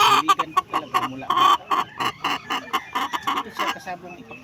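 A gamecock bred for cockfighting clucks rapidly and loudly at close range, with a stream of choppy, throaty calls and a few sharper squawks.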